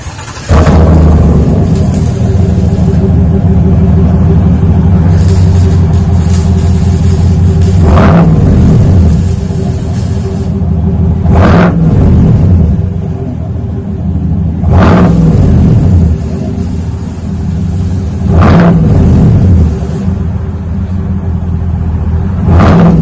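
A 2021 Chevy Silverado LTZ with a 6.2 V8, resonators removed and a single-chamber V2 muffler, idles with a deep burbling exhaust and is blipped through several loud, sharp revs close by, with no talking.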